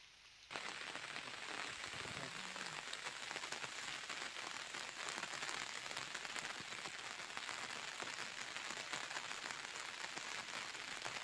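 Unseasonal rain falls steadily on cotton fields in Udayapuram panchayat, Kurupam mandal, making a continuous, even hiss of drops with no voices, starting abruptly and holding the same loudness to the end.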